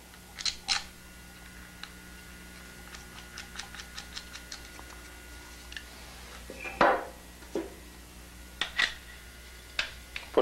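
An AGD Automag paintball marker from 1968 is reassembled, its parts giving a string of light metallic clicks and ticks, with a few sharper clacks and snaps near the end, close and fairly quiet with no talking.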